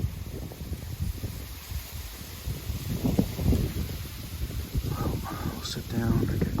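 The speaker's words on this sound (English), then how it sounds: "But of course, the wind's blowing again as usual." Wind blowing across an open Maine hunting area in rough, steady gusts with microphone buffeting, swelling and easing throughout, with faint rustling and a distant crow call near the end.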